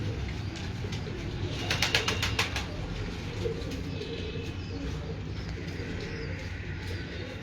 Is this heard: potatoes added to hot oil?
no